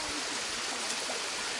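Rushing water from the Cascate di Rioscuro waterfall and stream near Cineto Romano in the Monti Lucretili, a steady broadband roar that holds evenly throughout, with no voices.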